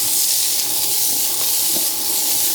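Chicken and green beans stir-frying in a Nuwave induction wok give off a steady, close sizzling hiss throughout, with a few soft stirring clicks.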